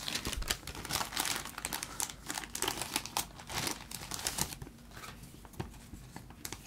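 A Pokémon card slides into a crinkly plastic protective sleeve, making close, continuous crinkling and rustling that thins out toward the end.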